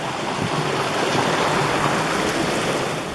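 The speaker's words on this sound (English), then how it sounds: "the first thing you gotta do is cross this stream on what looks like a good bridge here" Water rushing steadily past a trail bridge on a mountain stream near Fall Creek Trail, a dense, continuous close-up wash with no voices.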